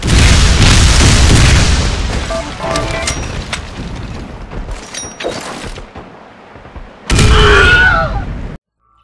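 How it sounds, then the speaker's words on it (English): Airstrike explosions in the video game Bodycount, a heavy booming blast that rumbles and decays, followed by scattered crackling and debris, then a second loud burst near the end before abrupt silence. "Airstrike inbound."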